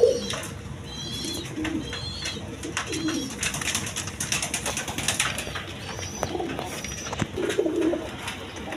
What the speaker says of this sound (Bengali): এখানে এক পেয়ার ইন্ডিয়ান কাগজি কবুতর আছে